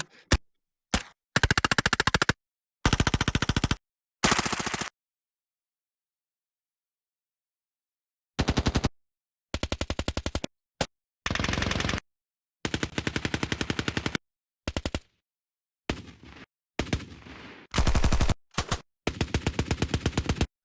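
Loud bursts of rapid automatic gunfire, some short and some longer, separated by stretches of silence.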